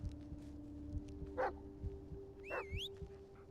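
A dog in the Blair Witch video game gives a couple of short yips and whimpers over quiet game ambience with a low steady hum, one cry rising and wavering.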